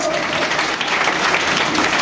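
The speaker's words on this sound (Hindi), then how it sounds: "ये भरपूर तालियां बजाइए दोस्तों" An audience claps at a certificate presentation during a Congress minority department event in Asansol. The applause is a brief, steady wash of hands, with voices faintly mixed in.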